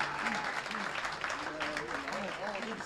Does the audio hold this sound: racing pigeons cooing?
no